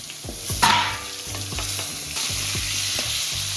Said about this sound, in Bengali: তেজপাতা আর গোটা জিরে ফোড়নে দিয়ে দিলাম